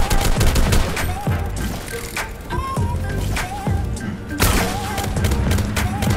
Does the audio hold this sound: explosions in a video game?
yes